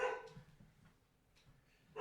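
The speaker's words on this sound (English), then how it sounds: "She doesn't even know what she's barking at anymore." An excited dog gives two quick barks, one at the start and one at the end, with a quiet gap between them.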